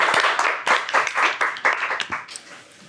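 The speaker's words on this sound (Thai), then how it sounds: "คนแรกขอเสียงปรบมือต้อนรับเทสครับ" An audience at a comedy roast show claps to welcome a guest, a brisk patter of hand claps in uneven bursts that thins out toward the end.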